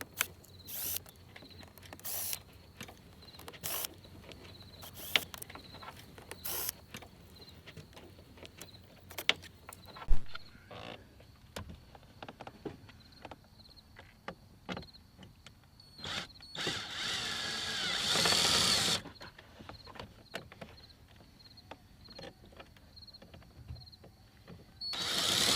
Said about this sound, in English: now take a T20 bit, and there's 4 screws that secure it in place here, and then there's 1 on each side. So go ahead and remove those.